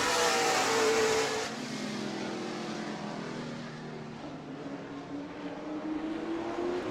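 Modified race cars at New Smyrna roar past the start-finish line, a loud engine blast that fades into a droning, pitch-shifting whine as the pack moves away and laps on.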